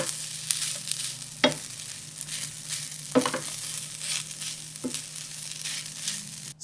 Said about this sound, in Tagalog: Magsangag na tayo ng kanin.